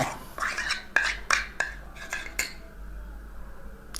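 Close metallic clinks and scrapes come from a spoon stirring hot bird feed formula in a bowl to cool it. The strokes are irregular, then give way to quiet near the end, with no voices.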